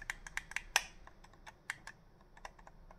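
Light plastic button clicks from a MOBAPAD Chitu PRO-HD mechanical game controller tap out in an irregular quick sequence, close and fairly quiet, with no talking.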